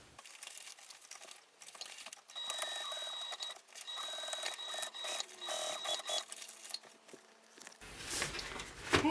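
A sewing machine stitches around the top of a tote bag in several short bursts with pauses, a mechanical whir with thin whine and clicking handling noises between runs.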